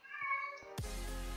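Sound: cat meowing

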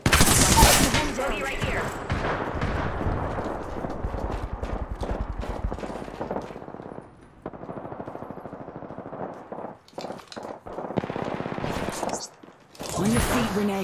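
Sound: gunfire in a video game

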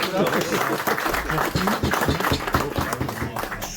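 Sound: audience applause

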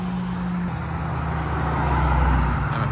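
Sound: modified car leaving a Japanese car meet

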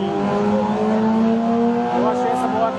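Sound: 1977 CB550 motorcycle engine revving

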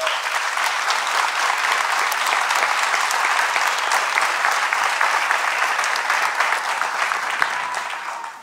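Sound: audience applause for drummer at concert

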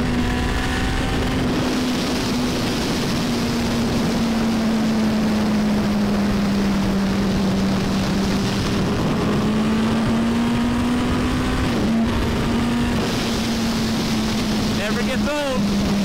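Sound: Turbo Hayabusa motorcycle turbo spooling and boosting

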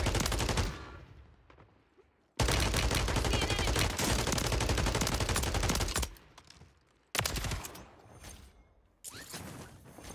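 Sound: sniper rifle gunfire in Call of Duty Warzone video game

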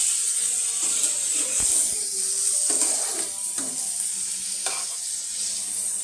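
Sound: bitter gourd and potato being stirred while frying

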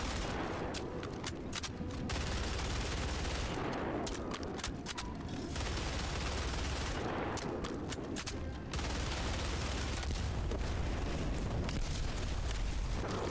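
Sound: BR-14 Adjudicator rifle shooting a tank in a video game

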